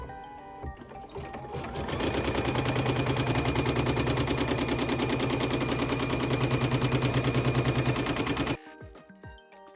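An in-the-hoop embroidery machine stitches an Animal Crossing money bag keychain, a loud, steady rapid needle chatter that rises to full speed after about two seconds, runs continuously and stops abruptly near the end.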